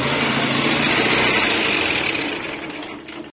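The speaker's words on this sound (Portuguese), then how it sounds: "Vocês acabaram de ouvir o barulho dessa moto aí, pessoal, um barulho estranho, feio." A small 150cc motorcycle engine runs steadily at close range with a rough, rattling abnormal knock in its idle, then trails off and cuts out near the end.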